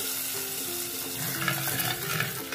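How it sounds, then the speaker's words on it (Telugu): Hot tempering with curry leaves is poured into spinach dal and sizzles up close, a crackling hiss that swells partway through and comes with light stirring, with no voices. "తాలింపుని పాలకూర పప్పులో వేసుకోవాలి."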